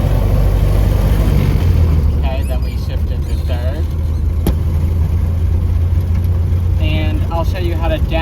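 A 1930 Ford Model A car drives along in third gear, a steady low engine drone and road rumble filling the interior, with voices talking over it and brief clicks and rattles.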